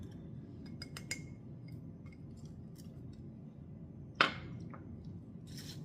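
Apple slices stirred in a bowl with a utensil: sparse, quiet clicks and scrapes, then one sharper clink partway through, over a soft background hum.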